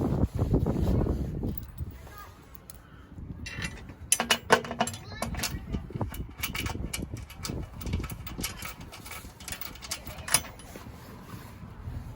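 Bolts go into the step bars on a 2020 Honda Ridgeline, with close ratcheting clicks, metallic rattles and brief taps in irregular bursts.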